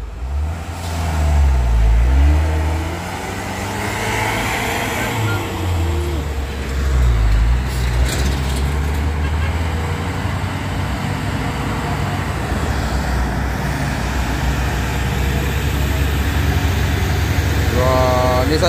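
Nissan Diesel truck hauling a trailer up a steep hill, its engine droning and labouring loudly with shifting revs, nearby and continuous over roadside noise and voices.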